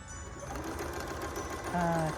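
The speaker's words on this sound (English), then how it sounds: "now I am sewing my groups of 8 together" A sewing machine hums steadily as it stitches quilt pieces together, a soft continuous motor drone with a faint voice underneath.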